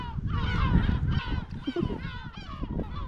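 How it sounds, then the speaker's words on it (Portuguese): Agitated seagulls call repeatedly on a small windy island off Sardinia, harsh honking cries overlapping close by against wind noise. "tem muita gaivota, elas estão um bocado chateadas porque estavam aqui sozinhas"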